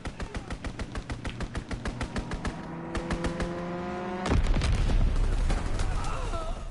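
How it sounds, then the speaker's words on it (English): Rapid machine-gun bursts rattle in a steady rhythm during a strafing run in a WW2 multiplayer shooter game, followed by a heavy roaring engine-and-blast rumble, loud and close. "Strafing run inbound."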